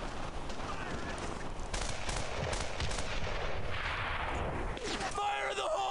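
Gunfire and a grenade explosion in the video game Brothers in Arms: Earned in Blood, a dense, loud stretch of repeated shots and blasts throughout, ending in a rumbling tail with some electronic tones.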